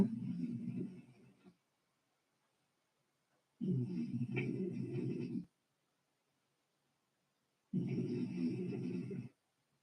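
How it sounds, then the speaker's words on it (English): A dog snoring on the floor, three long rasping breaths a few seconds apart separated by silence, close and moderately loud. "My dog is snoring"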